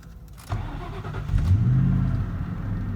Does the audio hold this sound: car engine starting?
yes